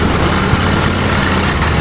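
A cold 427 Chevrolet dump truck engine runs loud and steady close by, a low rumbling drone with no clear rise in pitch.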